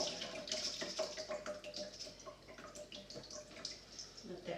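Cooked chili beans draining in a colander, a soft steady patter and trickle of water with scattered drips, close and fairly quiet throughout.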